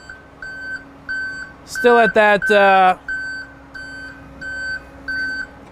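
Repeated warning beeps from a Rosenbauer King Cobra fire truck as its rear is lowered during auto-leveling, a steady series of evenly spaced electronic beeps interrupted midway by a short burst of close speech.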